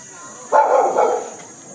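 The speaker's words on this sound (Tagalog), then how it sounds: "Kumahol na po." A dog barks once, close and loud, a single rough bark held for under a second against a steady high hiss of outdoor background noise.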